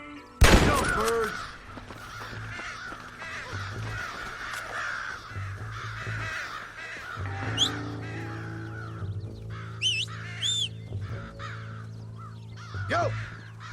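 Crows caw in the Red Dead Redemption game, starting with a loud burst of several harsh calls, then scattered fainter caws over a low ambient rumble with a few sharp cries near the end.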